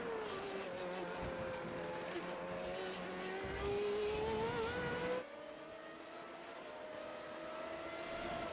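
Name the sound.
Formula 3.5 race cars at Monza in the video game iRacing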